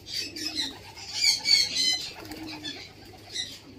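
Pigeons in a loft coo softly while wings flap in short bursts, close by and moderately loud, with overlapping low coos under brief fluttering.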